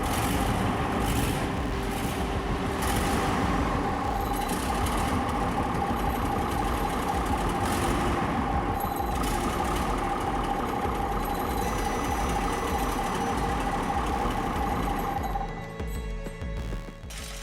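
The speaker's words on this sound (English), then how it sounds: "They use a blowtorch to heat a cast iron hot bulb until it glows, then hand-turn the flywheel to build compression." A 1912 hand-started hot bulb marine engine runs at low speed, giving a steady, close mechanical chugging and knocking that holds throughout and drops off abruptly near the end.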